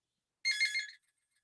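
A phone rings once during an astronomy lecture, a short, bright electronic trill of about half a second that rises out of silence and stops.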